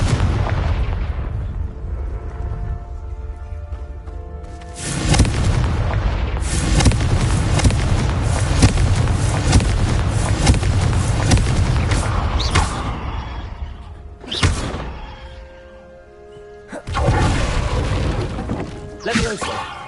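Confringo fire spell explosions in the video game Hogwarts Legacy, a series of loud booming blasts with rumbling crackle, one long sustained burst followed by shorter bursts separated by brief lulls.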